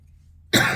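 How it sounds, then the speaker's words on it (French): A single sharp cough bursts out abruptly after a moment of near silence, loud and close. "Je suis désolée, je tousse"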